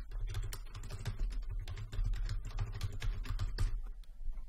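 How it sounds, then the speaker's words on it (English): A website address is typed on a computer keyboard in a steady run of close, crisp key clicks with a few brief pauses. "just type in my website"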